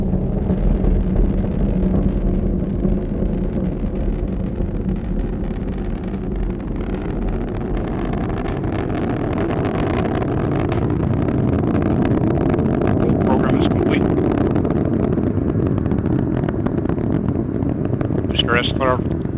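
Atlas V rocket engines roaring during ascent, a steady, loud low rumble heard from afar with a broadcast voice speaking over it.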